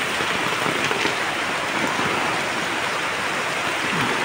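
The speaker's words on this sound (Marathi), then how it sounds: "आता किती छान पाऊस कोसळतोय बघा" Heavy rain pours steadily, a dense continuous hiss of drops striking surfaces, loud and close with no voices.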